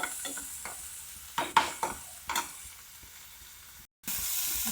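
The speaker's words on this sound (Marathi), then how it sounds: "आपला कांदा छानपैकी लालसर भाजून झाला आहे, हे बघू शकता तुम्ही।" Onion frying to a reddish brown in a pan for a bhendi tiffin dish, with a soft sizzle under several sharp scraping stirs in the first half, a brief dropout, then steady sizzling.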